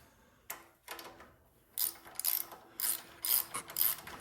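Ratchet wrench backing out 3/8 bolts from the engine cover of a Craftsman lawn tractor, heard as several short bursts of rapid clicking separated by pauses, close and clear with no talking.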